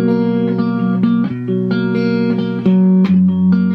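Electric guitar finger-picking a repeating pattern from a song on its second pass: clean plucked notes ring over a sustained low tone in an even rhythm, close and clear, with no voices.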